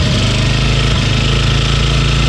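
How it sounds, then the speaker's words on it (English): A sailboat's engine runs loud and close, its carburetor out of adjustment, a steady low chugging rumble with no pauses and no voices. "Let's see if we can get this engine going."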